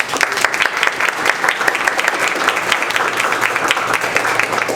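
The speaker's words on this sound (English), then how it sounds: "If we could give her a round of applause." An audience at a talk by Sam Tarell breaks into warm, steady applause for the speaker's mother, dense overlapping claps holding at an even level throughout.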